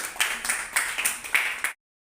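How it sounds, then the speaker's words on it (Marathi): A classroom of children claps together in a rhythmic unison beat, about seven sharp, evenly spaced claps that stop abruptly into silence. "टाळ्या वाजवा एकदा"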